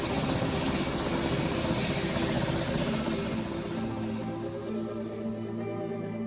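A helicopter idles in the Roblox game PTFS, its rotor and engine making a dense, steady whirring drone that stays loud and close throughout, easing slightly toward the end.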